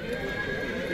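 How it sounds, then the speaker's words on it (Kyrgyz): A working horse at a busy horse market whinnies, a loud, sustained neigh close by over a dense background of market noise. "Онда да бир рабочий ат турат."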